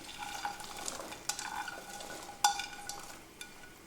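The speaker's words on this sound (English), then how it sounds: "And I will stir it." Carrot and celery being stirred in a soup pot, with a faint soft sizzle and quiet scraping, plus a few light clinks of a spoon against the pot.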